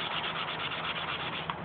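Fine sanding of flowable body putty by hand, a steady continuous scratchy rubbing heard close up and alone, with no talking.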